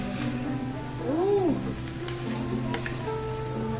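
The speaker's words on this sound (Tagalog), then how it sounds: "Lagyan natin itong kanyang karne" Meat dropped into a pan of sautéed sinigang base sizzles steadily, with frying crackle throughout, a brief tonal sweep in the middle and soft stirring scrapes.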